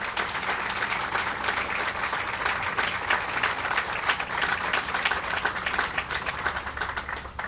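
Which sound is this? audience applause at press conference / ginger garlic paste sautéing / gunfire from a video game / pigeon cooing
audience applause at press conference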